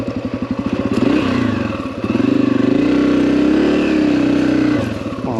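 An off-road motorcycle on an OHV trail at Buckhorn, engine chugging and revving at low speed as the bike crawls along, loud and close throughout with a steady mid-pitched drone.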